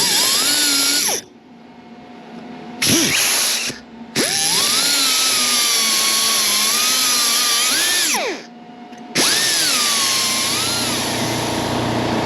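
A power tool trims a part shorter on a 1955 Chevy Bel Air during an LS engine swap, a loud high whine that runs in long bursts, dropping out briefly between cuts, close up with no talking.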